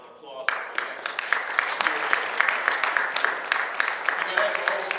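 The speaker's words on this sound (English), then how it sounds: "So I'd like to give a round of applause for that." A press-conference crowd breaks into a dense round of clapping that starts abruptly and holds steady throughout, close and loud with no one speaking over it.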